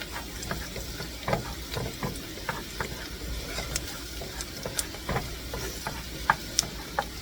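Sliced potatoes for scalloped potatoes with ham and cheese cook in a pan, with a soft continuous sizzle broken by scattered stirring scrapes and clicks, fairly quiet and without talk.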